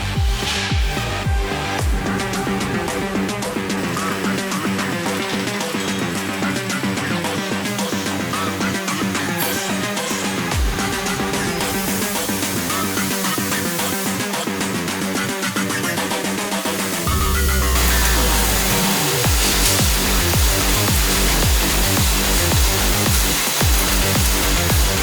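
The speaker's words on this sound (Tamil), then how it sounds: "சப்மர்ஜ் ஆர்க் வெல்டு சொல்லுவாங்க அந்த மிஷின்" A submerged arc welding machine welds a steel beam in a steel fabrication shop, giving off a loud, continuous humming industrial drone with a dense buzzing texture. The tone shifts partway through, then carries on without a break.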